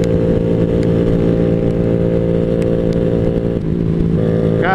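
A Honda Grom motorcycle cruising at steady speed, its small engine droning loud and continuous right up close, with a slight dip and shift in pitch near the end.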